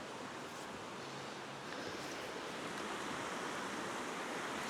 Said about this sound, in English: So this is the Sahawi River.